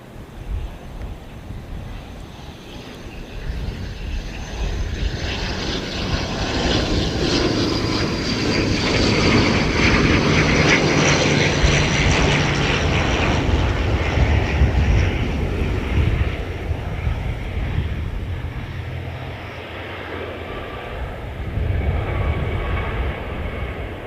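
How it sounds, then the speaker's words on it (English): A Qantas QF191 airliner in retro livery lands after arriving from Sydney, its loud, steady jet engine roar building and swelling for about twenty seconds, with wind buffeting the microphone and faint talk underneath. "That's a very good landing."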